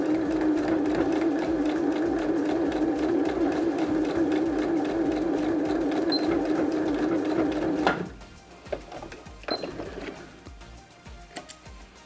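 Sewing machine stitching fabric for a small Easter basket craft, a loud steady motor hum with rapid regular needle clatter for about eight seconds, then stopping, followed by faint handling noises.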